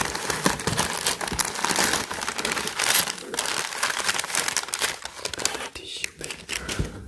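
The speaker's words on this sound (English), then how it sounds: "Tissue paper." Crinkling tissue paper pulled from a Supreme x Vans Sk8 Hi shoe box, close and crisp, with rapid rustling bursts and crackles running continuously, louder near the middle.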